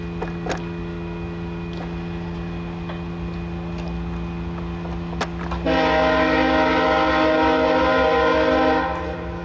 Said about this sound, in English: Nice loud horn. Well, it may not be the nicest horn ever, but it's loud.